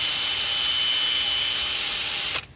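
A power tool fitted with a Scotch-Loc disc sands a damaged Redline wheel, giving a loud, steady high-pitched whir that runs continuously before cutting off abruptly at the end, with no talk.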